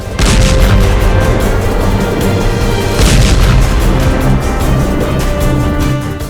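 Loud, continuous booming blasts of landmines and war explosions overlap into a dense rumbling roar, with a couple of sharper bursts standing out, close and intense.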